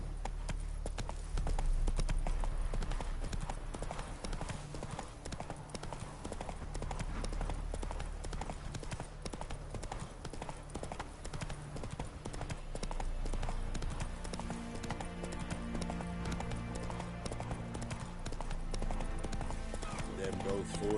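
Roach the horse from The Witcher 3 gallops with steady, rhythmic hoofbeats throughout, accompanied by game music and brief voices.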